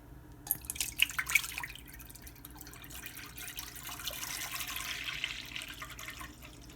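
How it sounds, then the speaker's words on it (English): Milk pours from a huge jug into a cooking pot while making paneer cheese, starting with a few splashy drips and then settling into a steady, continuous liquid stream close to the microphone, with no talking. "Then you take this huge, ginormous jug of milk and you pour it in here."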